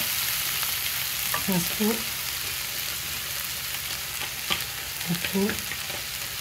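Prawns fry in a pan with onions, ginger garlic paste and spices, giving a steady close sizzle broken by scraping stirs, while someone speaks briefly over it.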